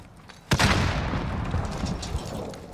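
A bomb in a multiplayer shooter video game explodes with a sudden loud boom, followed by a long rumbling, crackling tail that fades slowly over a couple of seconds.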